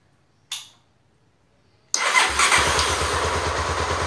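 A Honda Tornado XR motorcycle with a starter solenoid relay fault: a brief click, then the engine cranks and fires into a steady, loud idle that runs on to the end.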